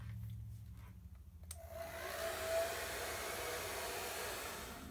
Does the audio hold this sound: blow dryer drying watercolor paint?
yes